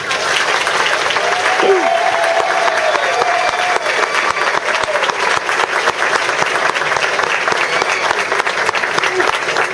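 A crowd of parents and students at a fifth-grade graduation claps loudly and steadily, a dense unbroken wash of applause lasting throughout, with a few voices mixed in.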